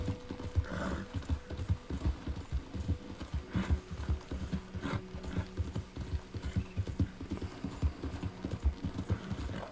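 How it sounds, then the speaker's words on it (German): A horse galloping in the video game Red Dead Redemption 2: rapid, continuous rhythmic hoofbeats, loud and close, with faint snorts and ambient game sound and no talk. "Jetzt darfst du gern wieder was schneller reiten"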